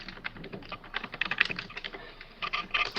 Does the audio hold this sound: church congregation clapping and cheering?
no